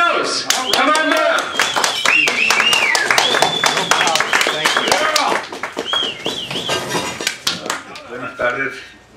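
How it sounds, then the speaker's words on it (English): Clapping from an audience welcoming a speaker at a community gathering on farm worker organizing, mixed with overlapping voices and some tonal calls or whistles, fading toward the end. "A warm round of applause for our speaker, Marcos Munoz."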